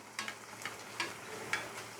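Farali kachori frying in oil on low heat, a faint, soft bubbling sizzle with a few light crackles scattered through it, no voices.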